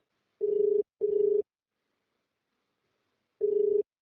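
An outgoing phone call ringing unanswered, three short electronic ringback tones, two close together and a third after a pause, clean and alone.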